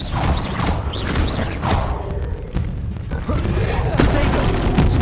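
A spell cast in a Harry Potter video game, with a dense, loud burst of magical whooshes, mechanical creaks and booming impacts across the whole stretch, layered over game music.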